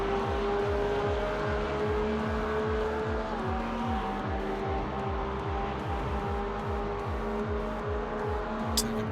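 Porsche race car engines roar in an iRacing sim race at Bathurst, a loud, sustained engine drone with rhythmic pulsing revs and steady gear tones, ending in a brief sharp click.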